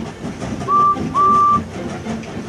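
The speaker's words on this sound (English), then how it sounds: "James and Edward puffed into the yard." Two short steam-train whistle blasts sound over a faint rumble of rail movement as trains puff into a yard, the second a little longer than the first.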